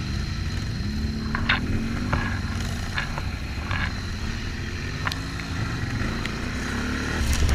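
A motorcycle engine runs steadily and loudly throughout, a continuous droning rumble with a few sharp higher clicks and rattles over it.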